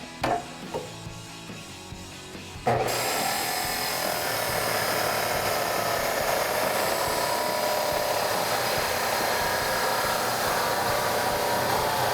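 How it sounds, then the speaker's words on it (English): Power tool cutting through steel U-bolts during a Toyota Tacoma 4WD lift kit install, a loud continuous high-pitched whine that starts abruptly after a few quiet knocks and holds steady for about ten seconds. "So now that we've trimmed our U-bolts"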